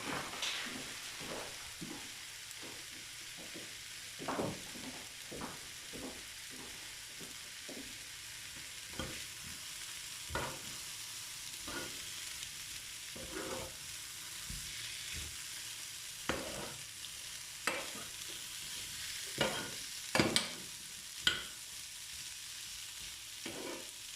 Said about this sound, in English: Then add my Rösti now to it.